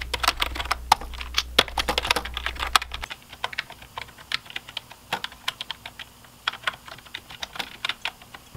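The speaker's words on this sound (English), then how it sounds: "You guys know like the thwacky keyboard sound?" Rapid clacky keystrokes on a mechanical keyboard, close and crisp, with a steady uneven rhythm and a low hum underneath at the start.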